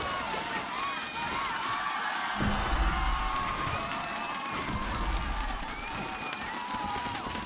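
Crowd in an esports arena at a VALORANT Game Changers match, cheering and whooping steadily throughout, with a commentator's voice over the roar.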